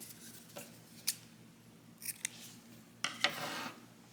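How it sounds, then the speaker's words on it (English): Scissors snipping crochet yarn for a flower bookmark stem, a few short quiet cuts spread across the moment, with a louder pair of snips near the end. "And you can also cut your stem color yarn at this point."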